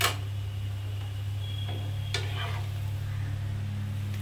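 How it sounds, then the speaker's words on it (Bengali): A stuffed onion paratha fries in a pan with a soft, steady sizzle over a low electrical hum, marked by a few light clicks and scrapes. "দেখুন আমার লাল করে ভাজা হয়ে গেছে।"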